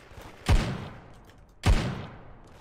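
Two loud, punchy Deagle pistol shots ring out in the Da Hood game, about a second apart. Each is a sharp booming crack with a decaying tail, and nobody speaks.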